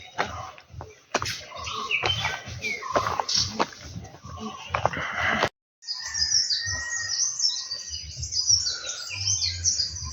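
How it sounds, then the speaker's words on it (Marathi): Chirping birds fill the scene near Visapur Fort, continuous tweets over low rustling and handling noises, with a brief cut of silence midway. "पक्ष्यांचे असे किलबिल करणारे आवाज येत आहेत"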